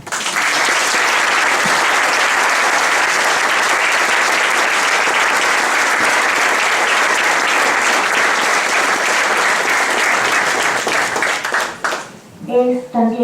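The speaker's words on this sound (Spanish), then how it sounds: "a quien le voy a pedir el aplauso porque no está presente" Audience applause breaks out at a public presentation of a collection, dense steady clapping from a large crowd sustained loud for about twelve seconds before fading, with brief speech at the end.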